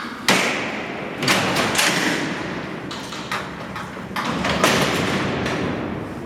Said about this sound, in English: when that cell door closed